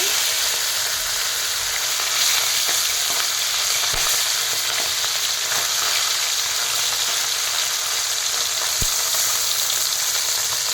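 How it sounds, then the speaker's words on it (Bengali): Steady, loud sizzle of khoira fish frying in oil, a dense crackling hiss throughout, broken by a couple of sharp pops; no voices. "মাছটা ভেজে নেব।"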